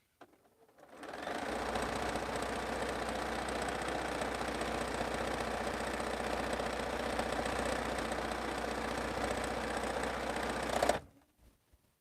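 A sewing machine runs continuously while stitching a quilt, producing a steady, even motor hum with fast needle chatter for about ten seconds before stopping.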